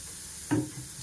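Hot oil in a cooking pan gives a quiet steady hiss, broken by one short crackling sizzle burst halfway through, heard up close with no voices.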